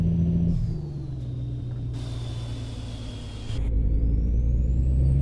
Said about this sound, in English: I actually think this engine sounds better with the windows up, to be quite honest with you.